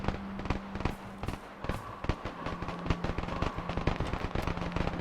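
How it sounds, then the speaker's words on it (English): Gunfire in an Arma 3 firefight: repeated sharp shots and bursts cracking at irregular intervals across the whole stretch, fairly dense and mid-distance, with a faint steady tone running underneath. "So there was a firefight going on, and it sounds now like it's over"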